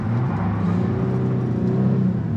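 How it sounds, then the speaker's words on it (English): A 2022 Nissan Frontier Pro-4X accelerates hard uphill on a 0-to-60 run with its tires spinning; a close, steady engine drone and rumble holds throughout without speech. "I just spun the tires way too much."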